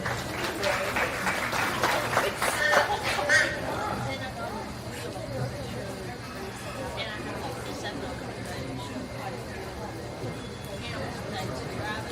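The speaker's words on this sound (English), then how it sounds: "Let's give him a round of applause for helping too." A crowd claps at a county fair swine show: a burst of applause and chatter in a large space, tapering into a murmuring crowd over a steady hum.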